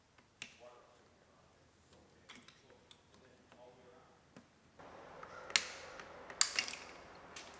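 Plastic tabs on an engine wiring plug of a 1993 Mustang GT are worked loose by hand, giving sparse close clicks and snaps, then a denser burst of sharp clicking and rattling near the end.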